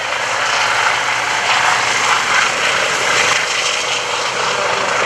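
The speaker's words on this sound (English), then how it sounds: "to hear the sound of turbine engines and rotor blades" A loud, steady Eurocopter EC135 medical helicopter at an airshow, with whining turbine engines and constant rotor wash, close by and continuous throughout, with no voices.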